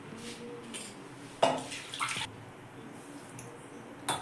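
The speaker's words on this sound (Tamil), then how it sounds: "நம்ம மிக்சி ஜார் கழுவுன தண்ணி" Rinse water from a mixer jar is poured into rava dosa batter, a series of close splashing and trickling bursts at uneven intervals, fairly soft and heard without talking.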